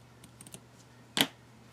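Scissors snip through a onesie frame cutout, a few light clicks followed by one sharp, close cut, with no talk.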